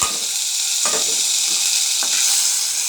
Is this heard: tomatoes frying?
yes